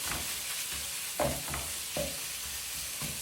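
Minced beef sizzling in a pan with garlic and onions, a steady broadband frying hiss broken by a few sharp scraping stirs of a utensil, close and fairly loud, with no talking.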